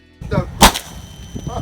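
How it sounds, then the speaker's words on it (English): A Standard Manufacturing SKO-12 shotgun fires a single Dragon's Breath round outdoors, one loud close blast with brief voices just before and after. "now we're shooting some Dragon's Breath."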